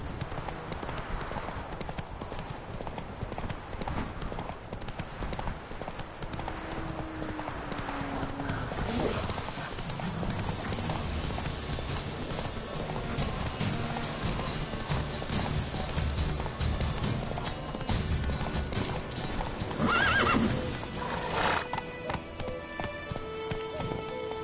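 Horse hooves clip-clopping steadily through a fantasy world in The Witcher 3, with occasional whinnies, ambient game sounds and voices talking throughout.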